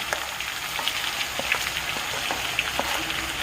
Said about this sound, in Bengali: এই সময় আমি পেঁয়াজ বাটাটা দিয়ে দেবো এই তেলের মধ্যে